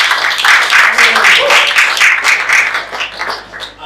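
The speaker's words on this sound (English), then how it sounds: "Give them a round of applause." Audience applause welcoming two new church rectors at a community gathering in Lewes, loud, close clapping with a rough pulsing texture that swells and then begins to thin toward the end.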